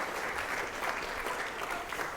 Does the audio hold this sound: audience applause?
yes